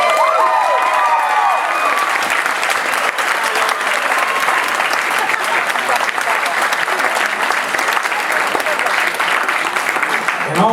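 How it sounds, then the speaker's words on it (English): Sustained applause from a large gala audience at a volunteer awards night in a theater, dense and steady for the whole stretch, with scattered cheers and whoops rising above the clapping near the start. "Let's give a big round of applause to Chris Pearson."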